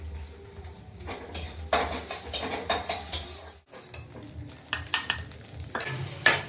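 Vegetables sauté in a pan for white sauce pasta, a constant sizzle broken by rhythmic scraping and clinking of a utensil against the pan, close and alone.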